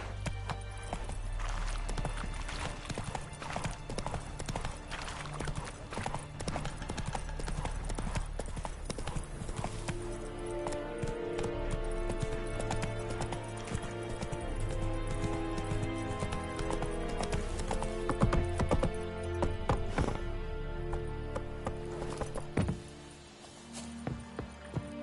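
A horse trots in The Witcher video game, its hooves clip-clopping in a steady, loud rhythm for most of the clip before easing off near the end, with occasional thunks.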